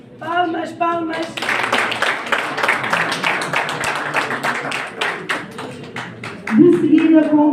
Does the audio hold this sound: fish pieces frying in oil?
no